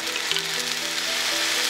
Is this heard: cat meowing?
no